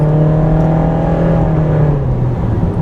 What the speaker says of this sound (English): If you floor the gas pedal with the CVT automatic, you get more noise than movement.